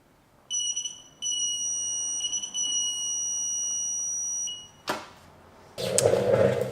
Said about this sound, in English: I don't know if you heard that beeping, but that was the torque wrench.